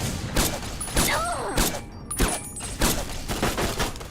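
M60 machine gun firing in Fallout New Vegas: evenly spaced heavy bangs, roughly two per second, loud and close, over a constant noisy background.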